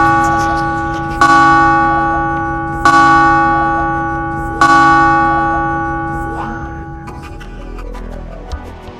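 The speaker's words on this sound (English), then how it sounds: "From 5 o'clock in the evening, the bells will strike the hour." Large church bells striking the hour beside a Venetian square, three loud, resonant strokes spaced about two seconds apart, each ringing out and slowly decaying into a long humming tail before fading.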